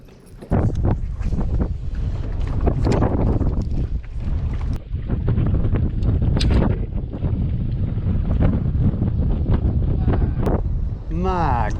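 Strong wind buffets a bass fishing boat on a spring river during a tournament, a loud continuous rumble of wind noise against the microphone, with someone talking over it.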